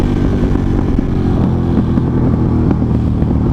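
A Ducati motorcycle being ridden while carrying a pizza delivery gives a steady, loud engine drone with low rumbling throughout, close and continuous with no talk.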